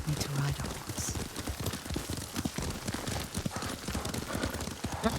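A horse's hooves clip-clop in a brisk, steady gallop-like rhythm while riding in Ghost of Tsushima, close and prominent, with faint ambient weather beneath and voices talking over it.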